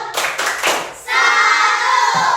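Schoolchildren in a classroom doing a few rhythmic claps together, followed by a sustained tonal sound like a chant or voices.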